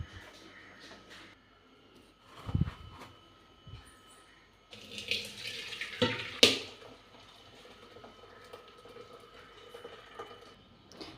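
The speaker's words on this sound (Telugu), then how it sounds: "రైస్లోంచి వాటర్ మొత్తం తీసిన తర్వాత ఇంత అయిందండి" Water drains off freshly boiled rice in a home kitchen, with intermittent splashing pours and light clatters of a pot, moderately close.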